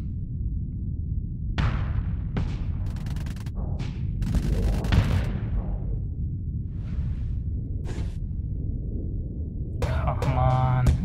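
Missiles fire from a ship in the space combat game Starsector, a series of sharp bursts and whooshing blasts spread through the stretch, with a person talking over them.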